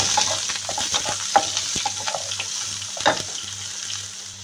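Chopped onion, crushed garlic and curry leaves sizzle in hot oil for a Kerala-style dish, a steady close frying hiss broken by scraping stirs and clinks, over a low background hum.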